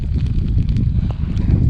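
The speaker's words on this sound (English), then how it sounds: "It's so windy." Strong gusty wind buffets the microphone outdoors on the Isle of Skye, Scotland, a loud continuous low rumble with shifting surges and no talking.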